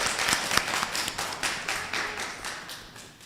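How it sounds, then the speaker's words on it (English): A small audience at a college student election debate gives a brief round of applause, a few distinct sharp claps at first, then looser, thinning clapping that fades out. "So a round of applause for you all for being here."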